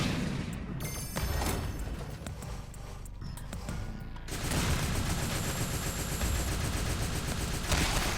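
Turret gunfire in Killer Is Dead, heard as sporadic shots at first, then a loud, dense, sustained rattle of rapid fire with clattering game effects.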